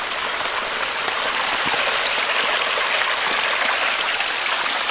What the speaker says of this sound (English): Nice little waterfall, baby waterfall.